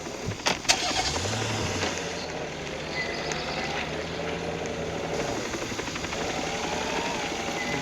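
A car engine starts and settles into a steady running drone inside a roleplay video game as a player gets into the vehicle, a couple of sharp clicks and door sounds first, then a continuous engine hum with no talk.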